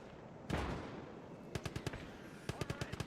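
Incoming mortar or artillery fire in the WW2 strategy game Gates of Hell, with a loud blast followed by rapid bursts of sharp gunfire-like reports in close succession.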